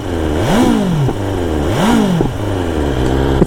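BMW S1000 XR motorcycle with Akrapovic exhaust, two loud throttle blips rising and falling over a steady idle, close up, with a faint clatter near the end.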